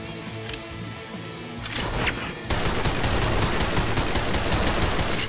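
Dense, rapid pistol fire in the VR shooter Crossfire Sierra Squad, loud and close, growing into a thick, continuous barrage of overlapping shots with no talk.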